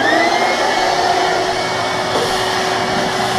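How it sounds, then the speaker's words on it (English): A vacuum cleaner runs continuously, a loud, close, steady motor whine with an airy rush that never changes pitch or level for the whole stretch. "Okay, vacuum cleaner again."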